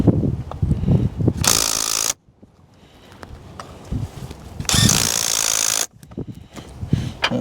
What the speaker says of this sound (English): Now we just got to bolt this back up.